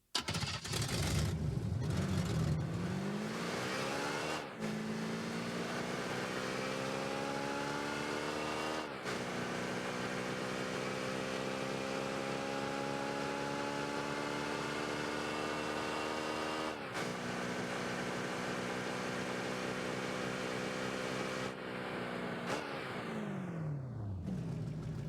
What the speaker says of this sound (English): Here's a full demo of the engine audio.